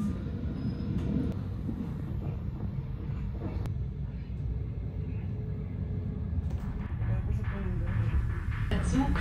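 A Swiss S24 train runs steadily, a continuous low rumble and rattle of the rail car carrying throughout with faint voices and cabin noise over it.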